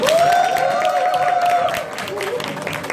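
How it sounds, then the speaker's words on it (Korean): Applause from an audience opening the ForLife Easy Talk Day regional event in Gwangju, a steady patter of clapping behind a sustained tone that fades as the clapping thins near the end. "여러분의 힘찬 박수와 함께 포라이프 이지 토크데이 광주 지역 행사 힘차게 시작하겠습니다"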